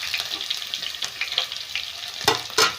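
Chopped capsicum tipped into hot oil for restaurant-style veg fried rice, giving a steady close sizzle with two sharper bursts of spitting near the end, no voices.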